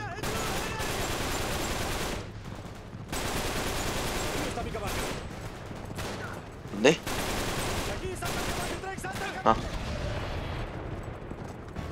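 Bursts of automatic gunfire fill a chase in the video game Uncharted 3, loud rapid volleys with brief pauses between them, while players talk over the action.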